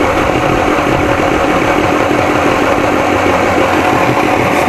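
A 40 hp Johnson outboard motor runs steadily during a thermostat test, a loud, continuous idling engine drone with a rough, pulsing rhythm and no speech.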